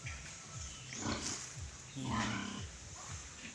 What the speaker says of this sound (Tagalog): meron silang baboy dito